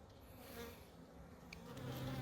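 Honey bees buzz in a soft, steady hum close by as they crowd around a queen freshly marked with oil-based paint, the drone faint but continuous and swelling slightly toward the end.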